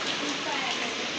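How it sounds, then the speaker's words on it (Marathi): Heavy rain pours at night over a school playground and corridors during a yellow-alert downpour in Nashik, a dense steady hiss filling the short stretch without a break. "आणि इकडं इतका पाऊस पडतोय आता"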